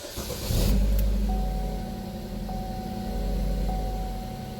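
A 2012 car engine restarted and running steadily, a low continuous hum with a brief louder surge near the start, heard close by in a garage with no talk.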